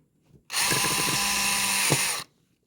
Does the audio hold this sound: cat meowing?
no